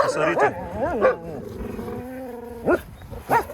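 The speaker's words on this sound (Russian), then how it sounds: "Посмотрите, как гавкает Умка" A dog barks and yelps in several sharp bursts nearby, with pauses between, mixed with some whining tones, near a wolfdog area.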